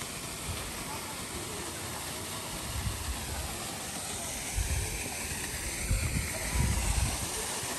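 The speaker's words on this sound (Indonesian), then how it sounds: "Jadi di sini ada air terjun juga." A waterfall near Kampung Tinambut gives a steady, broad rushing roar for the whole stretch, with a few low thumps and swells rising over it toward the end.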